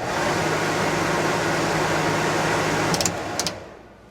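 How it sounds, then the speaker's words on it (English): A Coleman Mach RV rooftop air conditioner compressor starting up, a loud steady broadband roar with a low hum, a couple of brief clicks near the end before the sound drops away, close and without talk. "let's go ahead and fire up the compressor."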